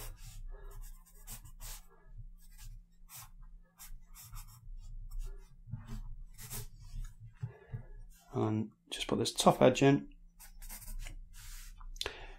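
A pencil scratches across paper while a tortoise is being drawn, in quick, close, dry strokes of varying length with a busier flurry near the end, heard alongside a person talking quietly.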